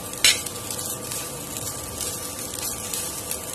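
Brinjal curry ingredients frying in a pan over a medium flame while being stirred until brown, a steady close sizzle with a single sharp utensil clink near the start and no talking.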